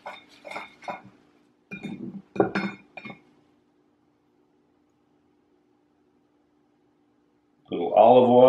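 Glass olive oil bottle clinking against a plate as oil is drizzled onto bread, several sharp close chinks in the first few seconds, then silence before a voice speaks at the end.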